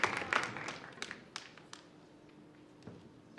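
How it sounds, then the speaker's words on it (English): A brief round of clapping at the World Bank Youth Summit 2018, loud at first and quickly thinning to a few scattered, individual claps and light taps that fade out within a few seconds. "Let's have one more big round of applause for both of them."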